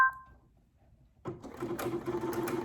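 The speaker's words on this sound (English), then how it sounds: "It is sewing horizontal." A Brother Essence VM5200 sewing machine starts after a moment of near silence and stitches sideways in a steady, fairly quiet whir.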